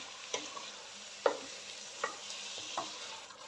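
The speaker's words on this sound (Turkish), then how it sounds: "şimdi karıştıracağım" A spoon stirs içli köfte filling in an open pot, scraping and clinking in four or five evenly spaced strokes over a soft sizzle, quiet and close.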